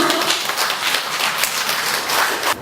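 Audience applause fills a Korean art-appreciation session on docent practice, a dense, steady patter of many hands clapping close by for nearly three seconds before it cuts off abruptly.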